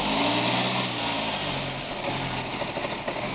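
A Saab car engine starting up and then running roughly, a steady close engine drone with a fault that leaves it smoking, heard alone without talk.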